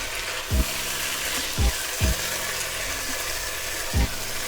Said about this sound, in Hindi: टमाटर डाल के अच्छे तरीके से हम इनको मिक्स करेंगे।